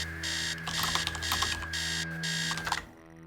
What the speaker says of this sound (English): upstairs, the sound of alarm clock blaring